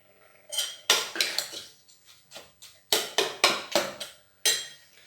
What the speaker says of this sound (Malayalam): ഇനി ഈ ചക്ക എരിശ്ശേരി നമുക്ക് അടുപ്പിലേക്ക് വെക്കാം.